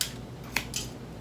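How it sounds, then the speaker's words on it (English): Scissors snip a couple of times while trimming stray pieces off a homemade car freshie, crisp close-up cuts over quiet room tone. "you can just go around and cut those off with the scissors"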